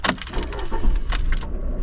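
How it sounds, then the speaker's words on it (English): A bunch of keys jangles and clinks up close in a few quick bursts over a background rumble. "Where are my keys? Here they are."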